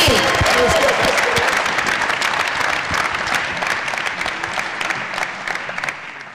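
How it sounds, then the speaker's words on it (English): An audience applauds at a Michigan State Athletics event, a loud, sustained crowd ovation close by that slowly tapers off, with a voice briefly heard under the clapping. "Let's give them all a round of applause"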